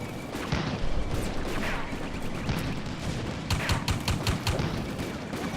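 Gunfire fills a World War II battle in the computer game Combat Mission: Afrika Korps, with repeated sharp shots, bursts of automatic fire and heavier booms crackling at moderate volume over continuous battle noise.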